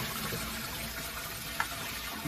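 Water pours steadily into the tank of a Chauvet Nimbus dry ice fog machine, a continuous fairly quiet rushing splash with one brief small knock.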